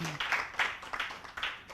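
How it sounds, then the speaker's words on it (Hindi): An audience at a Jain religious discourse claps in applause for Acharya Samantabhadra, a short burst of several rhythmic, fairly close hand claps. "एक बार ताली तो बजा दो समंतभद्र आचार्य से"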